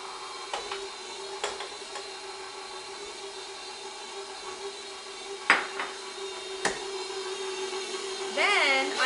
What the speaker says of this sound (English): going to take 2 sticks of butter and I'm going to add them to my mixer with some sugar, 2 cups of sugar